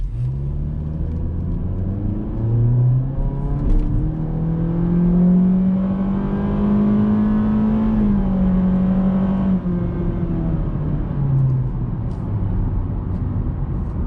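A 2022 Honda Civic LX, a base trim with a non-turbo engine, pulls away from a standstill. The engine drone climbs steadily in pitch through the gears, loud and continuous, with a short dip at each upshift.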